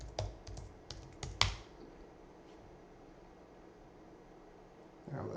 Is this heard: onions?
no